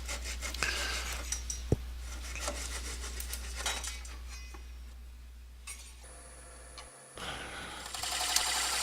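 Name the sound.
small hand saw cutting a natural edge wooden bowl free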